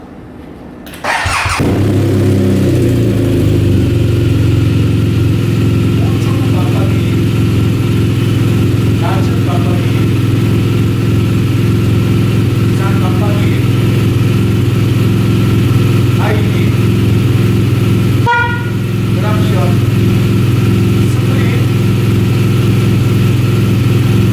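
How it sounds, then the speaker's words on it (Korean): A 2016 BMW R1200RT motorcycle with about 44,475 km on it cranks and fires up with a sudden loud start, then settles into a steady, close, throbbing idle with faint clicks and speech over it. "시동도 한번 걸고 각종 전자장치를 확인해 보도록 하겠습니다"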